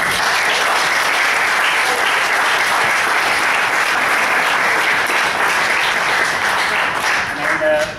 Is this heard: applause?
yes